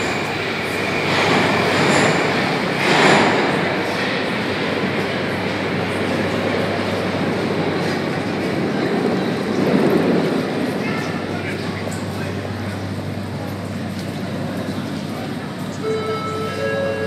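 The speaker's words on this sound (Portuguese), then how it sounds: "aqui é uma estação, ó, de metrô" A metro train rumbles through an underground station in Moscow, a loud steady roar with wheel squeal and clatter, then brakes hiss and squeal as it slows.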